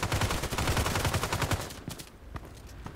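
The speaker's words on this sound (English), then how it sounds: "this machine gun is really a monster" Rapid automatic bursts from an RPKT machine gun in the shooter game Contract Wars, loud and close, a steady rattling stream of shots for about a second and a half, then a few scattered single reports.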